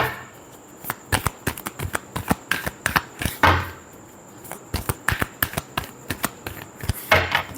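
A deck of tarot cards shuffled by hand, with rapid crisp flicking riffles and slaps in close repeated bursts, loud and near, no voices.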